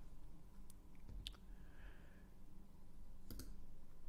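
A computer mouse clicks on an article, with a few sharp, close clicks spaced apart against a quiet room background and no talk.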